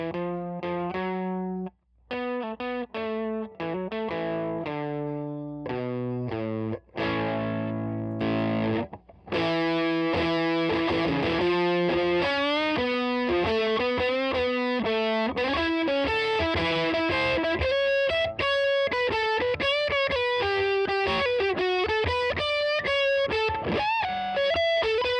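A heavily overdriven electric guitar through a JHS Colour Box V2 preamp pedal plays a riff of chugging notes and chords, then sustained distorted lines ring out loud and thick with saturated low end.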